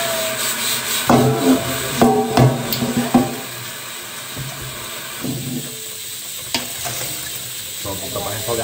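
Onion sautéing in a large pot, with soft sizzling and scraping stirs that come in bursts, loudest early on, then quieter frying underneath.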